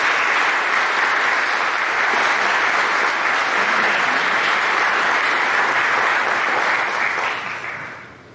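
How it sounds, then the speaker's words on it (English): Sustained applause from a school senior awards ceremony audience honoring finalists and winners, a dense steady wash of clapping from a large crowd that holds for about seven seconds before tapering off at the end. "one more nice round of applause for our finalists and winners"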